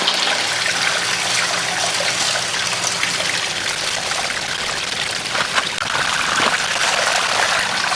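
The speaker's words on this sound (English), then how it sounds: "I'll increase the water flow just a little bit." Water runs steadily through a gold panning sluice set up at home with muddy material, a loud, continuous close-up rush and trickle with no pauses.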